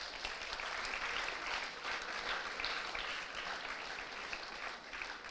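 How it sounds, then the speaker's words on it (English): Newly admitted MBA students clapping for themselves at an inaugural induction ceremony, dense continuous applause from a hall full of people, moderately distant and even throughout. "please clap for yourself."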